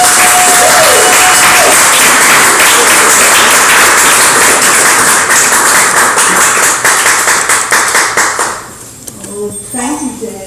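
Loud, dense applause from an audience fills the room, then thins out near the end as the clapping fades and a voice begins to speak.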